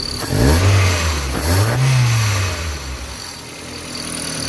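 A Toyota 4E-FTE engine, just fitted with a new fuel pressure regulator, revs loudly close up in two quick throttle blips, the second rising higher and falling away slowly before settling back to a steady idle.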